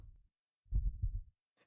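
A heartbeat sound effect playing in the background: low, muffled thuds, one brief beat followed by a longer, heavier thump, quiet and otherwise isolated.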